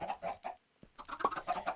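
Minecraft chickens clucking on a modpack chicken farm: quick close clucks in two bursts, split by a brief pause, with no talk.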